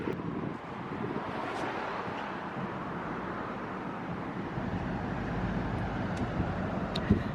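Cold wind gusts steadily across the microphone outdoors in Montréal, a continuous broadband rush and buffet that stays loud and unbroken throughout, with no voices.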